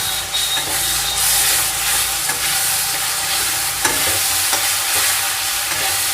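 Onion with ginger-garlic paste sautéing for mutton biryani, a steady close sizzle and hiss in a hot pan with occasional stirring scrapes, continuous throughout and no talk.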